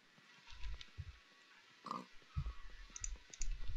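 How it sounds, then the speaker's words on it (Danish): A Minecraft pig grunts in short bursts amid faint clicking, with near, low snorts spread unevenly across the moment. "Der er en gris."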